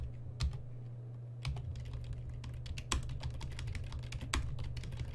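Rapid tapping on a computer keyboard, dense bursts of quick clicky keystrokes with a few louder key hits, close and steady over a low constant hum, no voices.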